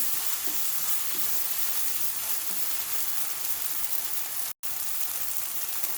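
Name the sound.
cooking and stirring tofu scramble in a pan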